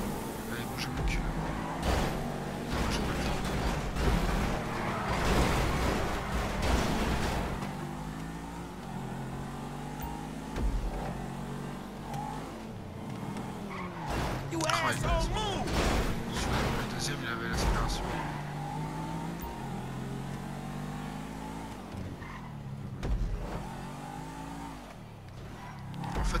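Engine of a poor car during a night race in Grand Theft Auto: a steady revving drone with shifting pitch and occasional tire noise running throughout, while someone talks quietly over it.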